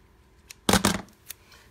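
Scissors trimming the paper of a handmade butterfly card make two quick, close snips in a row, followed by a faint click, against a quiet room.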